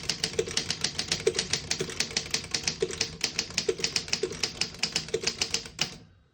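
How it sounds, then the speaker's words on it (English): Rapid, even clacking of keys on a 1937 Underwood No.6 desktop typewriter, struck one after another in a steady rhythm with occasional heavier thunks, close and clear, then stopping. "Very nice typing machine."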